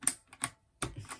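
Keys clacking on a budget mechanical keyboard, a handful of sharp separate taps spaced irregularly with short gaps between them, close and fairly crisp, with no voices.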